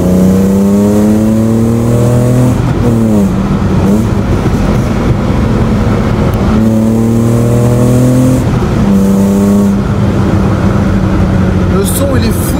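A BMW E30 fitted with a Supersprint exhaust accelerating hard through the gears, loud and close, its engine note climbing repeatedly with brief drops at each shift, while someone talks over it.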